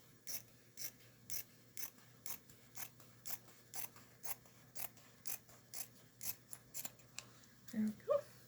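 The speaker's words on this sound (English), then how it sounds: "now I gotta cut the rest of this fabric off that I don't need." Scissors snip steadily through fabric for a junk journal craft project, about a dozen crisp, evenly spaced cuts close by, ending with a brief rustle of material, no talking.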